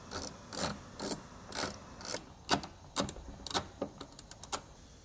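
Ratchet clicks in quick bursts as bolts are tightened down to mount WeatherTech mud flaps on a 2015 Ram 3500, close and fairly loud, the strokes speeding up into short rapid runs toward the end.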